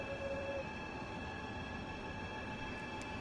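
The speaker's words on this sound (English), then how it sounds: "There's another Intercity Express. That's the second one I've seen today." Intercity Express train in Train Sim World 3 heard as a steady, even rumble of rail noise, with a faint tone early on and a brief higher whine near the end.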